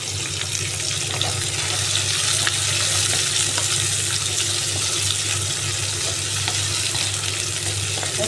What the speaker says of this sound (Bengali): পেঁয়াজটাকে আমি হালকা লাল লাল করে ভাজবো